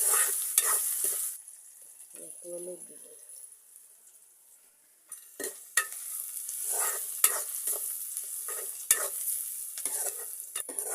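Onions frying in a pan for a radish and potato bhaji, a steady hiss with bursts of spatula scraping and stirring, close by; an interruption midway with a brief tonal sound before the sizzle and stirring resume.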